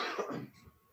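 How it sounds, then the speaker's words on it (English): A single person coughs once, close and fairly loud, a rough burst that quickly fades into a brief throat-clearing rasp. "Sorry, I have to cough."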